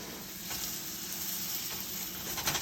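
Chicken breasts sizzle in melted butter in a pan over medium heat, a steady soft crackling hiss with a few brief spits, fairly quiet and alone.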